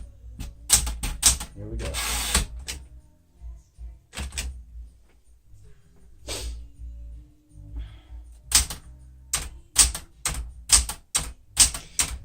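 A 1972 Smith-Corona Classic 10 typewriter clacks out bursts of sharp keystrokes with bell-like carriage sounds and a return, loud and close, separated by pauses, with a brief spoken phrase near the start.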